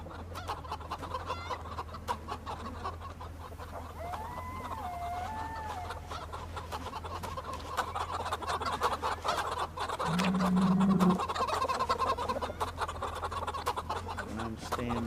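Chickens cluck on a farm in the survival video game Project Zomboid, a busy scatter of overlapping clucks and squawks at moderate level over a steady low hum, with no talking.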